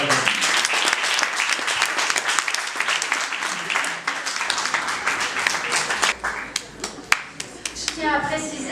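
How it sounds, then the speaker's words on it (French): An audience at a literary salon in a Marrakech café applauds a prize-winning author, with loud, sustained clapping from many hands that thins into scattered claps toward the end. "je vous demande de bien vouloir applaudir M. Reda Dalil."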